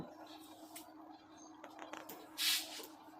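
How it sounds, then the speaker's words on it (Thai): Ironing spray is misted onto a smocked dress in one short, close hissing burst, with faint handling noise before it and no talk. "แล้วก็ฉีดสเปรย์ร่วมด้วยค่ะ"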